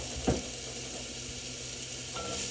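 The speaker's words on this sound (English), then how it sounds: "I'm adding my onions in now. We're gonna sweat them down." Onions and garlic frying in a pan for macaroni bechamel, a faint steady sizzle with a brief stir or clink of a utensil early on.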